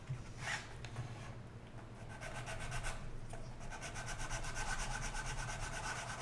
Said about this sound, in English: Do my sanding.